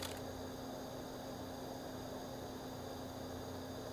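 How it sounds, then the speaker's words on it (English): A room fan runs steadily in a small space, a constant broadband whoosh with a faint electrical hum underneath, holding an even level throughout with no voices. "Sorry about the fan."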